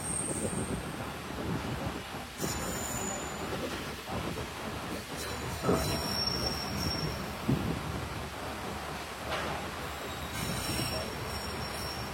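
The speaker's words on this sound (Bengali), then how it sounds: "জয়দেবপুর কমিউটার ট্রেনটি এখন বনানী রেলওয়ে স্টেশন প্রবেশ করলো" A Joydebpur commuter train rolls into Banani railway station in Dhaka, its wheels rumbling and clattering close by while sharp high squeals from the rails cut in and out over the steady running noise.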